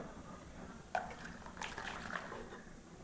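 Ground egg pudding mixture is tipped into a vessel, giving soft, quiet liquid drips and sloshes with a small splash near the start and another pour a little later.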